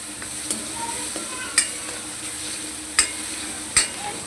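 Green chili paste and garlic roast in a pan for a Marathi spinach and gram flour dish, a continuous close sizzle broken by several sharp spoon scrapes and taps against the pan, no voices.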